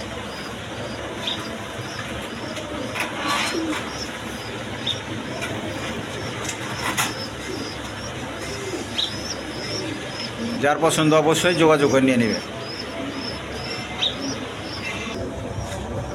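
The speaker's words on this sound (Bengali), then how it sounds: "এখানে এক পেয়ার রেসার কবুতর আছে" Racer pigeons coo softly and repeatedly nearby, with a few chirps, while someone talks over them.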